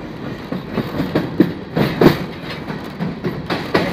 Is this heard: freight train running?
yes